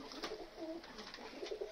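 Pigeons coo softly while eating, with several low, gentle coos and faint pecking sounds in a quiet setting.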